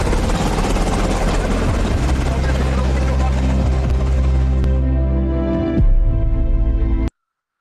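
A helicopter comes in to land with a loud, continuous rotor and engine roar that swells briefly near the end and then cuts off abruptly.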